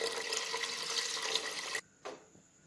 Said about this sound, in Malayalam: ഇനി ഈ അരി വേകാനുള്ള 2-3 ഗ്ലാസ് ആവശ്യമുള്ള വെള്ളം ഇതിൻ്റെ കൂടെ ചേർത്ത് കൊടുക്കാം.